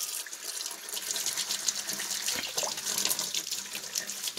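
Tap water runs steadily into a sink while the reservoir of a Mainstays K-cup coffee maker is washed out, a close, continuous splashing rush with slight fluctuations throughout.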